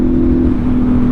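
A loud, steady motorcycle engine hum at idle in neutral, droning evenly for about a second without any talking.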